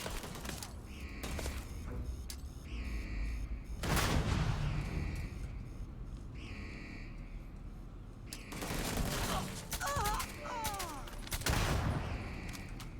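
Sci-fi game combat in Starfield with grenade blasts and bursts of gunfire, several sharp explosions and rattling volleys spread across the stretch, fairly faint and distant in the mix.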